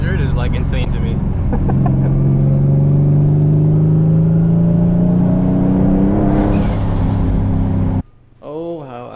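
A Nissan 350Z engine drones loudly while driving, its pitch rising slowly as the car accelerates, with a brief louder burst before the sound drops away and a voice speaks.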